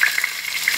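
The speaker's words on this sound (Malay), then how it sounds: "masukkan rempah-rempah tadi yang terdiri pada bunga lawang, pelaga, cengkeh, dan juga kayu manis" Whole spices (star anise, cardamom, cloves and cinnamon) frying in hot oil in a wok, a brief bright crackling sizzle with small pops.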